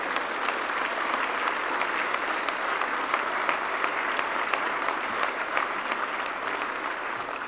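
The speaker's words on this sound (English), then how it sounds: "Please give him a round of applause." An audience at a UKIP leadership results event applauds Nigel Farage with loud, dense, sustained clapping that carries steadily through the whole stretch, with no voices rising above it.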